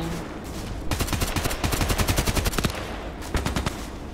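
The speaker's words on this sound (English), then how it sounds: "Nice sound. I always like weapon sounds." AKMS assault rifle in Contract Wars, loud, rapid automatic bursts fired close up, one long string of shots followed by a shorter burst after a pause.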